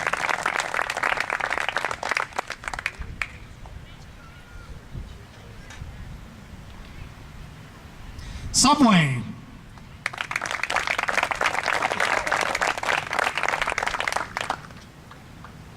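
Crowd applause at the groundbreaking ceremony for the MYBA Complex, with bursts of clapping before and after a stretch of talk and a brief honk-like sound.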